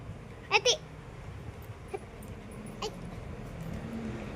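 A lone dog playing at home gives a quick pair of sharp yips, then a couple of fainter whimpers, over quiet room ambience.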